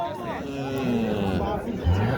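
A cow moos in a long, low, wavering call at a cattle market in Boysun, Surxondaryo, Uzbekistan, with a crowd murmuring and people talking nearby.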